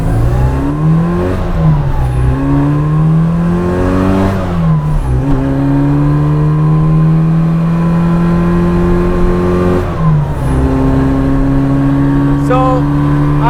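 Loud engine of a 1966 Austin Mini Cooper S heard from inside, revving up through the gears with rising whine, each shift dropping the pitch before climbing again.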